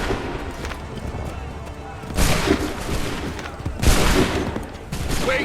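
Musket volleys crack out in Assassin's Creed 3 as massed gunfire bursts in heavy waves around two and four seconds, layered over continuous battle rumble and shouted commands.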